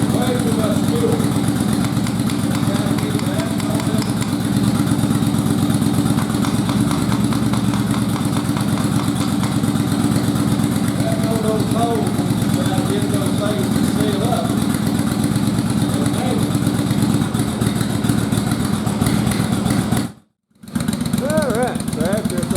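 An old Yamaha Virago motorcycle engine runs steadily after years of sitting, a rough continuous idle close by with a brief cutout near the end and a voice talking over it.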